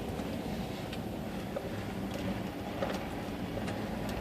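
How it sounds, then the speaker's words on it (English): Wind blows outdoors in a steady, low rushing buffet across the microphone, fairly faint and constant throughout with no voices. "Nice and windy."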